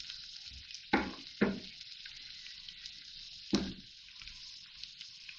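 Dried long red chillies frying in hot tadka oil for Punjabi sarson ka saag give a steady close sizzle, broken by three sharp, louder crackling bursts as they hit the oil.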